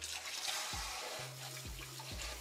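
Running tap water pours steadily over potatoes being rinsed in a kitchen sink, a continuous close splashing broken by a few low clunks and knocks as the potatoes are handled.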